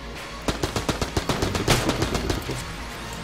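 A Kalashnikov rifle in a video game fires a rapid automatic burst of roughly fifteen sharp, loud, closely spaced shots, tapering into a short echo tail.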